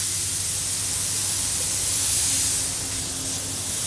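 Steam hisses steadily and loudly from an Atomic coffee machine being repaired, a continuous close spray of noise that swells slightly midway.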